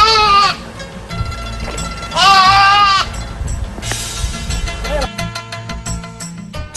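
A goat bleats loudly and close by, with two long wavering calls separated by a pause. Other livestock and outdoor noise sit in the background on a farm near Nanjing.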